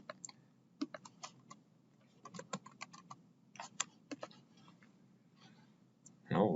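Computer keyboard keys are pressed in quick, irregular clusters of soft clicks and taps, close and quiet, ending with a brief louder rustle.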